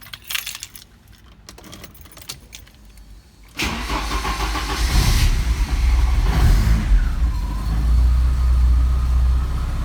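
A 1983 Porsche 944 is started after keys jangle and a few faint clicks, then its engine catches and settles into a loud, steady idle close by.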